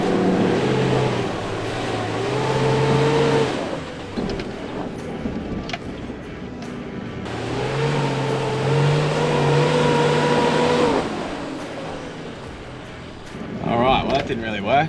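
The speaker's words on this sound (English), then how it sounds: "I feel like I'm flexing out and my front wheel that's going in the air is just spinning." A 4WD's engine revs in surges while climbing an off-camber track with weight on the back and a lifted front wheel spinning, loud and close from the cabin with quieter pauses between pushes.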